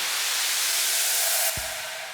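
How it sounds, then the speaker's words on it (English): A sampled white noise uplifter from a melodic techno track builds brightly in a rising hiss, then cuts off abruptly with a short low thump and a fading tail. "And another white noise up here from another sample."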